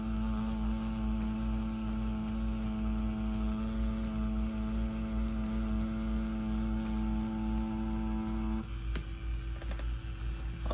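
A Mummy rotary tattoo machine runs with a steady, close electric hum and buzz that holds even for several seconds before its tone shifts slightly near the end, with no voices.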